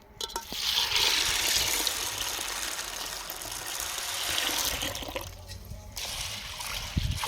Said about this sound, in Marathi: आणि त्याच्यामध्ये आता पाणी टाकणार आहे.